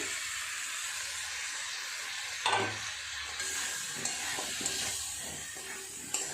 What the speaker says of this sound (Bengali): মশলার সঙ্গে ও সবজিগুলো একটু ভালো করে কষিয়ে নেব